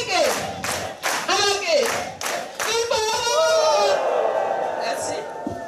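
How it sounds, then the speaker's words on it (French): Applause from an audience at a church testimony gathering: sharp rhythmic hand claps under loud, continuous voices that sing or call out throughout. "Applaudissons."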